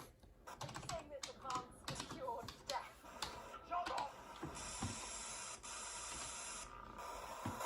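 Quiet, irregular clicks of keys being typed to enter a name in a video game, followed by a steady electronic hiss, with a person talking over the typing.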